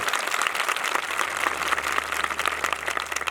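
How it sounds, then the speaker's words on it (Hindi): A church congregation claps loudly and continuously, a thick, even roar of many hands applauding with no pause across the few seconds. "जोरदार ताली बजाए, जोरदार।"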